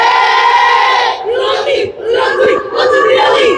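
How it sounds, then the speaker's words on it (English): A youth soccer team, under-14 players, lets out a loud group cheer outdoors at a match, a sustained shout followed by several rising whoops from the crowd of kids. "a loud cheer from the Asante Elite U14s, both teams."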